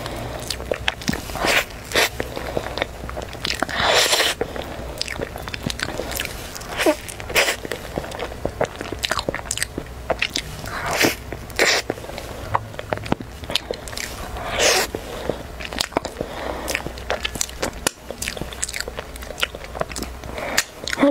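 Close, loud bites and crunches of food in a mukbang of cookies, peach cake and similar treats, a steady run of sharp crisp bites and chewing without talk.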